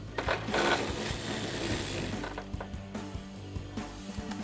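A 10mm socket ratchet loosens the rear spoiler nuts on a 2024-2026 Mustang GT, a close, quick series of small clicking pawl ticks after a brief rustle of handling.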